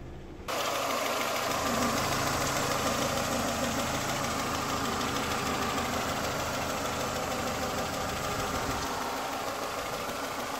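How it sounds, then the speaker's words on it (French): A rebuilt Peugeot 206 engine idles steadily after its first start, a continuous mid-pitched hum with a constant drone that starts abruptly and holds even to the end. "on appuie sur la pédale, il prend les tours, il monte jusqu'à 5500 tours"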